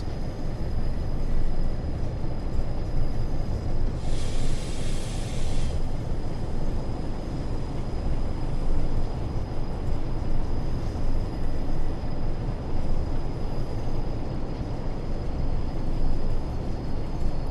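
A train in Train Sim World 4 on the Blackpool Branches, with a steady low rumble running continuously and a brief brighter hiss partway through.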